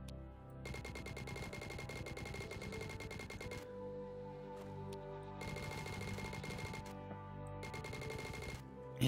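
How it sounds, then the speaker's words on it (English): Machine gun fire in the video game Edge Of Space comes in three rapid, rattling automatic bursts with short pauses between them, loud and continuous over a steady game soundscape. "Yeah, that machine gun's pretty nice though."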